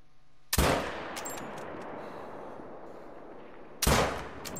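A hunting rifle fired at a sika deer: two sharp, loud, close shots about three seconds apart, each followed by a long echoing tail into the open air.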